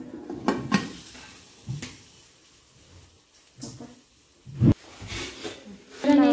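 A baking tin is set into a preheated pot fitted with a wire rack and the lid is put on, giving a few sharp metallic clanks and knocks spread across the moment, with someone talking between them.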